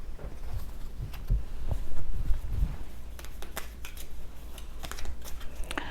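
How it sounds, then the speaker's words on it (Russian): Tarot cards slide and shift across a table, a close, busy run of light taps, rustles and shuffling patter that continues throughout without speech. "Я немножко сдвину карты Таро, чтобы можно было нам продолжать"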